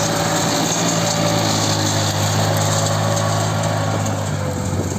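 A tractor engine drones loud and close as it pulls a plough across farmland. The steady mechanical hum holds without a break and no one speaks.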